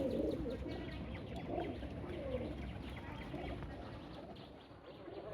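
A pet pigeon coos softly from a wire, low repeated cooing phrases over a steady outdoor background hiss, with no talking.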